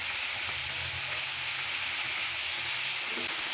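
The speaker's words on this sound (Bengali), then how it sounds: "লবণটা দিয়ে আবারও খুব ভালো করে মিশিয়ে এটাকে ভেজে নিচ্ছি।" Vegetables for a chicken Chinese vegetable dish fry in a pan with a constant, dense hiss and sizzle that continues unbroken with no voices.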